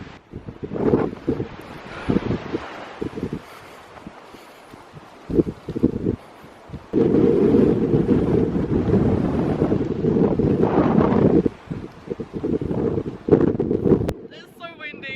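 Strong wind buffets the microphone in loud, rumbling gusts, some brief and some sustained, with quieter lulls in between, at the tip of an island on the Kent coast.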